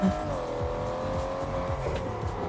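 An 800-horsepower car in the racing game Test Drive Unlimited Solar Crown accelerates with a steady, droning engine tone that holds and shifts slightly; there is a brief low burst at the start, and the sound is continuous and fairly loud.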